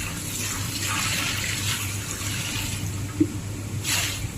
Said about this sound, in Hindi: हमने इसमें पानी डाल दिया